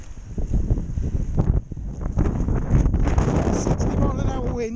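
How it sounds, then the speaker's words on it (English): Strong gusty wind of around 60 miles an hour buffets the microphone in a steady, rough low roar with surging gusts, close and loud throughout, while a voice talks over it. "60-mile-an-hour winds with higher gusts, so it's particularly nasty again today"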